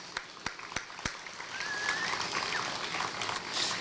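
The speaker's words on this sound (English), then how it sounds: "Can we give them a round of applause?" An audience at a memorial concert's opening remarks breaks into moderate applause after a few isolated claps, steady clapping filling the room, with a bird chirping faintly.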